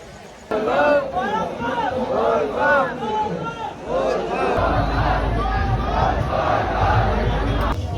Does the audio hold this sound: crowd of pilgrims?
yes